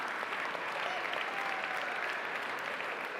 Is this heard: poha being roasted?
no